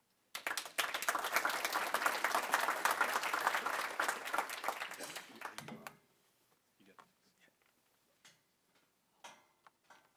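An audience at a commercial real estate show applauds to welcome CoStar's market analytics director: loud, dense clapping for about five seconds, then it tapers off, followed by scattered faint sounds.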